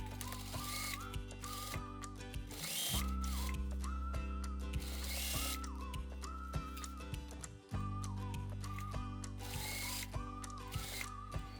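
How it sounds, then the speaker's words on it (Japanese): A sewing machine stitches a seam on a smock dress in steady rapid stitching with mechanical clatter, briefly pausing twice, while soft music plays underneath. "一度ミシンで縫っていきます"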